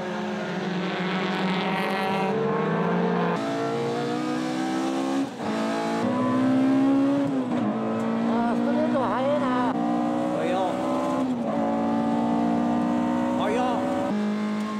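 Toyota AE86 race cars accelerating hard out of a hairpin at a circuit, engines rising in pitch through several gear changes, loud and continuous, with a commentator talking over them.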